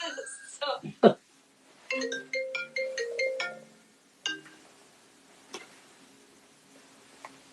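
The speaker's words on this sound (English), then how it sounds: "I had a phone call come through." A phone ringtone for an incoming call sounds in a short run of bright melodic tone bursts, mid-level and close, set among clicks, voices and room noise.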